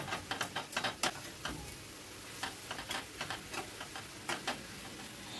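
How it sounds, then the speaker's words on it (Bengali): Chicken pieces being stirred and fried in a pan, a steady close sizzle under repeated sharp spatula scrapes and taps in an uneven rhythm, with no talk. "মিনিট খানেক এইভাবে নাড়াচাড়া করে ফ্রাই করে নেব"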